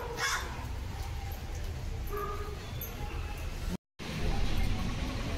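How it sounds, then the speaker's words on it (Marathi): A crow caws a few times outdoors against steady background noise and light talk, with a brief dropout near the end. "आलाय कावळा खायला"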